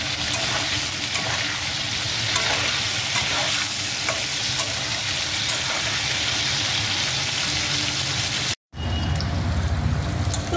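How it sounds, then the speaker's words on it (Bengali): Bitter gourd fries with salt in a pan, a close, continuous crackling sizzle with stirring scrapes, briefly cut by a short silent gap before the frying resumes. "এটা একটু নুন দিয়ে ভেজে উঠিয়ে নেবো।"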